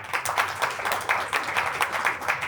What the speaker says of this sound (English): Can we all applaud for Shreya?